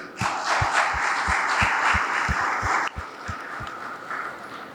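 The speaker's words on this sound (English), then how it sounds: "So big round of clap for yourself, please." Students at a college induction programme applaud together, a steady wash of clapping with some heavier rhythmic thumps underneath that eases off after about three seconds.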